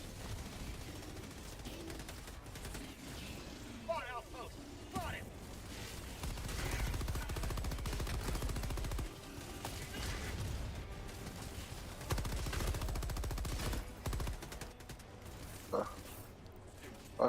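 Sustained rapid gunfire from a Helldivers 2 game battle, dense bursts and crashes layered over a constant roar throughout, with voices mixed in.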